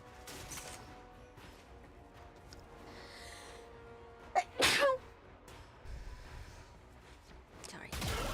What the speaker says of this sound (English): Just fucking sneeze.